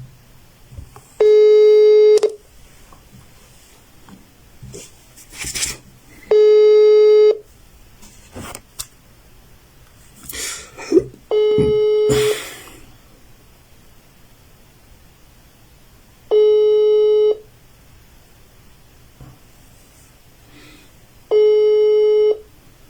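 Telephone line tones sound during a phone call: five identical steady beeps, each lasting about a second, are spaced several seconds apart, with faint clicks and line noise in between and no clear speech.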